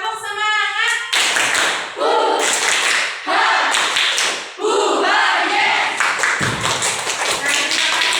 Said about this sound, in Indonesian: kita tepuk semangat dulu sebelum kita memulai pembelajaran hari ini